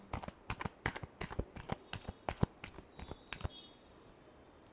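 Tarot cards are shuffled by hand in a quick, even run of crisp riffling flicks close by, lasting about three and a half seconds, then stopping into a quiet room with no talk.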